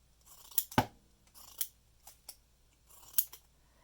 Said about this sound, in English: just help me make sure I'm cutting pretty straight lines